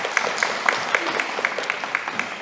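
Congregation at a Korean church service in Berlin gives scattered applause, with individual claps standing out sharply over a softer background of clapping.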